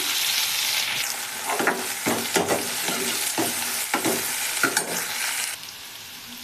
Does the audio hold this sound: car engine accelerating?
no